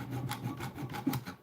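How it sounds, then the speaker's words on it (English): A round file rasps against a homemade knife blade in a series of steady back-and-forth strokes, close and fairly soft, with no talking. "So I'm using this round file."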